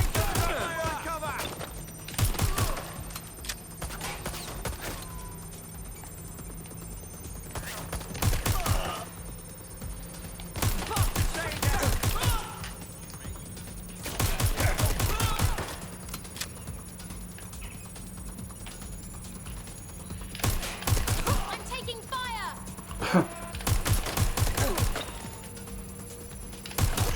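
Gunfire in a Watch Dogs: Legion firefight: repeated bursts of rapid shots in clusters every few seconds, loud and close, with quieter ambient stretches and faint voices between bursts.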